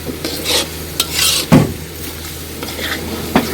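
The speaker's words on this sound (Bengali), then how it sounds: "এবার মশলাটা কষক" A spice paste fries in oil in a pan while a utensil stirs and scrapes it: a soft, continuous sizzle broken by several sharp scraping and clinking strokes against the metal, close and clear.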